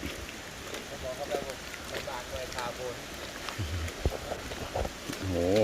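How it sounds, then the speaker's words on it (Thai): Steady rain patters and hisses in a forest while people talk intermittently nearby, with occasional louder drops and a gust toward the end. "ฝนตก"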